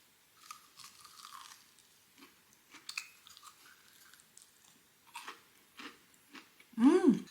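Crunchy Lotteria fast food, including cheese sticks, is chewed close up in a quiet room, with soft repeated crunches that build to a loud burst of crunching at the end.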